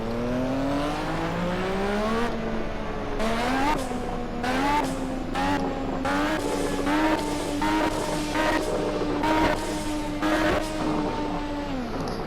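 A turbocharged race car engine in Project CARS drones steadily and revs up and down in repeated surges, with a high whine riding on top, loud and close.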